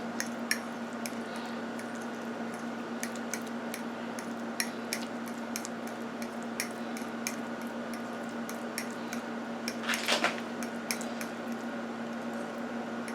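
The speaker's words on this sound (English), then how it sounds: "So you mix the butter up, or the margarine up, into the grits like this." Butter or margarine being stirred into a pot of hot grits, giving soft, wet squishing with light scattered spoon clicks, quiet and close, plus a brief louder scrape near the end.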